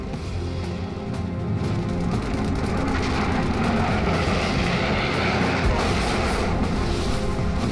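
A Corsair fighter plane with 2,000 hp engines roars steadily overhead, a dense continuous drone of propeller engine noise holding loud and unbroken throughout, without voices.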